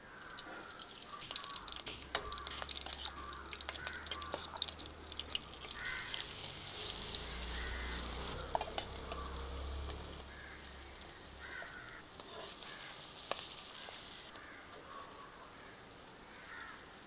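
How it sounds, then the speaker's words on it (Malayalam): Masala-coated mussels fry in oil with a sprig of curry leaves for an Indian mussel roast, giving a soft, steady bubbling sizzle close by, with faint outdoor bird calls behind. "ഇതിലേക്ക് എണ്ണ ചേർത്ത് നമുക്ക് അരപ്പ് പുരട്ടി വെക്കുന്ന ചിപ്പി വറുത്ത് കോരി എടുക്കാം"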